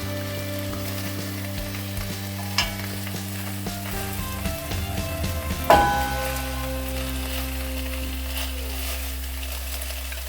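Salmon pieces hit hot oil in a pan with a sudden loud sizzle that settles into steady crackling frying, with occasional clinks of a spoon and tongs against the pan; no voices.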